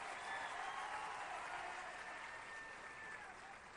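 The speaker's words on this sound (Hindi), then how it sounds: "जोरदार तालियां योगी जी के लिए और उत्तर प्रदेश के लिए हो जाए" Applause for Yogi and Uttar Pradesh at a live event with sports minister Anurag Singh Thakur, a dense, steady clapping from a large crowd that holds loud throughout and eases slightly near the end.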